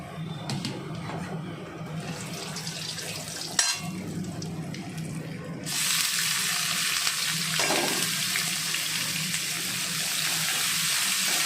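Whole cumin seeds dropped into hot oil for a spicy pointed gourd dish, a low background bubbling that rises into a louder, steady close sizzle after a few seconds, with a faint clatter along the way.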